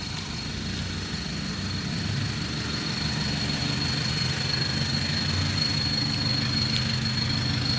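A motorcycle engine idles steadily, giving a continuous low rumble with an even mechanical drone that holds close and loud throughout, with no voices.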